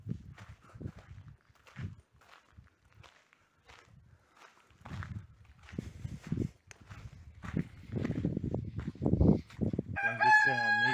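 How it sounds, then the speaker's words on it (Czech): Footsteps and scattered clucking in a reconstructed timbered medieval village lead up to a loud, close rooster crow at the end. "Máme kohouta."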